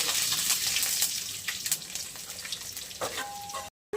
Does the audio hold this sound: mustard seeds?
yes